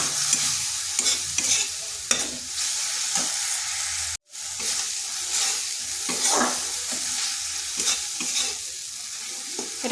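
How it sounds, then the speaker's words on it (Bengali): Chilli, turmeric and cumin powders fry in oil in a wok as they are stirred. A close, constant sizzle mixes with repeated scraping strokes, broken by one very brief pause. "এরপর মশলাটাকে একটু কষে নিচ্ছি।"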